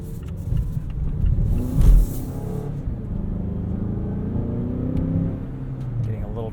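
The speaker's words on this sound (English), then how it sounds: "Let's see how acceleration handles shooting out of this corner here." A 2020 Mazda CX-9 Signature AWD accelerates out of a corner, a low engine rumble swelling briefly then settling into a steady drone, with a voice talking over it.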